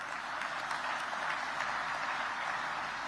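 Audience applause at a Hindi news broadcast event, breaking out during a speech listing investment and employment figures; steady, dense clapping sustained evenly throughout with no voices on top.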